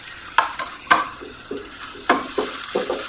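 Chopped tomato and green chili hit a sizzling pan of chicken noodles, bringing a constant frying hiss punctuated by repeated sharp scrapes and taps of a spatula against the pan.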